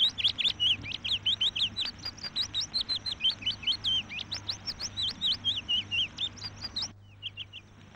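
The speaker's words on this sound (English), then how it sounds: "record impressions on the spot, as well as the sounds of birds and other creatures." Birds chirp rapidly outdoors in quick repeated bright calls, a dense run of tweets close by that thins out near the end.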